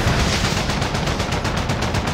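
Rapid automatic gunfire from a Modern Warfare Ground War match, dense bursts of shots rattling continuously and loudly close by with no talk over it.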